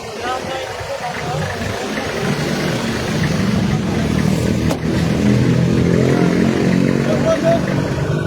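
Engines of motorcycles in a street motorcade along a coastal road rumble steadily, a dense mid-pitched drone that grows slightly louder over the stretch, with passing revs and a voice talking over it.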